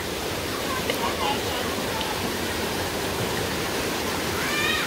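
Steady broadband rush of a mountain stream flowing beside a valley campsite in a healing-forest arboretum, continuous and fairly loud with no breaks, close by and alone.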